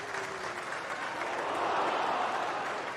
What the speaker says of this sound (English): The crowd a bit subdued at the moment